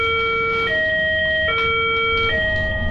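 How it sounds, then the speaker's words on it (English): An alarm wails through a school being placed on lockdown, a loud electronic tone that steps between two pitches in a repeating cycle, steady and continuous with no voices. "Out of nowhere, an alarm came on, and the school was placed on lockdown."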